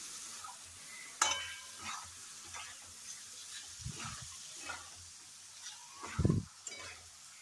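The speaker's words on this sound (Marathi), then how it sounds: "आणि आता ते चांगलं मिक्स करून घ्यायचं आहे." Chicken gravy with ladled water or soup being stirred in a pan, soft intermittent scraping and wet sloshing strokes with a gentle sizzle, fairly quiet and close.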